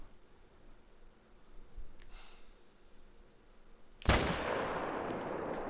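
A single loud rifle shot in a hunting video game, aimed at a gray wolf, bursts out after a quiet stretch with faint ambient noise, its blast trailing into a sustained rushing echo.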